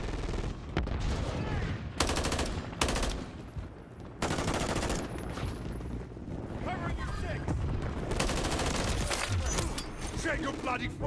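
Suppressed gunfire in Modern Warfare III, a Scrap 20L-style suppressor muffling bursts of shots that come in repeated broken volleys over a busy game mix, loud and close, with a voice talking over much of it.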